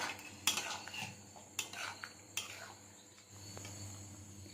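Fried paneer being stirred into masala in a pan for paneer butter masala, a few distinct metallic scrapes and clinks of a spoon against the pan over a faint low hum, quiet and close, no talking.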